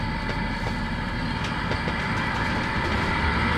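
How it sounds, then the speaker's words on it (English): A car engine running while driving on a small two-lane road, a loud, steady, coarse drone like a big truck, with faint ticks and road noise and no talk. "But if you can hear that, that's the sound of my engine."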